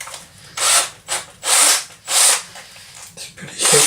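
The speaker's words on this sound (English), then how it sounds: "I'll just put the drill bit back in." A power drill bores into brass in about six short bursts, each a loud, close, harsh whir lasting around half a second, separated by brief pauses.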